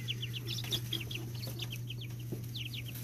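Young Japanese silkie chicks, about two to four weeks old, cheep and cluck in rapid, overlapping bursts over a steady low electrical hum, fairly close and with no talking.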